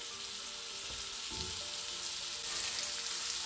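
Butter sizzles in a cast iron pan with a dense, even, hissing crackle held close and steady throughout, and one soft low knock partway through.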